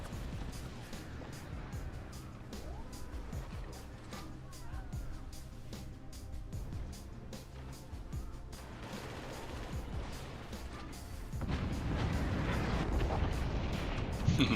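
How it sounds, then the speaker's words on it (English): Distant howitzer and small-arms fire from a video game tournament match, with repeated sharp cracks and booming thuds scattered through a rumbling battle ambience, a heavier low roar building toward the end, while a commentator talks over it. "There's the howitzer."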